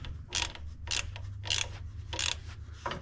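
Half-inch wrench snugging down plastic locking nuts on a 2021 Jeep Wrangler Unlimited Rubicon, giving five short bursts of ratcheting clicks at a steady rhythm, close and clear over a low background hum.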